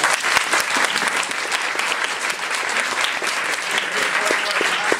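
Audience applause at a DFL candidate forum, dense sustained clapping from a room of people with sharp individual claps standing out, lasting the full stretch with faint voices underneath.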